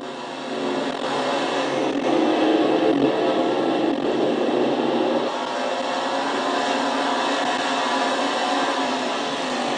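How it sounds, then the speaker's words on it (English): Race cars in a Castrol GTX Cup Series oval race lap the track, a dense continuous roar of engines that swells and holds at a steady high level. "Keith Batson getting around Jeremy Doobie in the 22 car"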